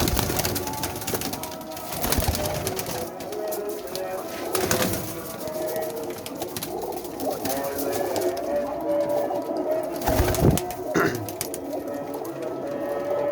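A flock of twenty-one pigeons kept for sale coo repeatedly close by, with soft throaty calls overlapping amid faint background noise and occasional voices.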